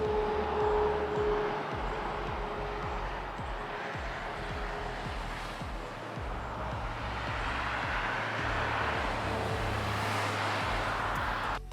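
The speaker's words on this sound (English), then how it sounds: "let's listen to this traffic" Traffic noise: a continuous roar of passing vehicles, loud and steady for about twelve seconds with a low rumble and broad hiss.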